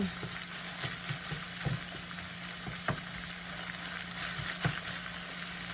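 Grated ginger sizzles in a hot pan as it is stirred in, a steady close frying hiss broken by a few faint scraping taps.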